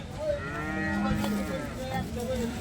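A horned cow at a cattle market gives a long, low moo over a steady background hum.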